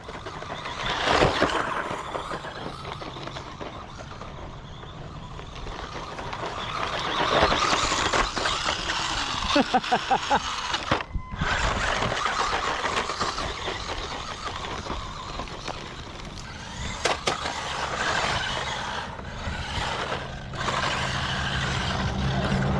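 Small SG-1603 4WD mini RC drift truck driving, its electric motor whirring and surging in loud uneven bursts with scrabbling tire and ground noise, close by and varying as the throttle changes, without speech.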